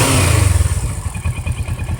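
A 2015 Kawasaki Versys LT motorcycle with a factory exhaust and a two-cylinder parallel-twin engine runs close by, rumbling loudly before settling into a steady idle. Nobody speaks.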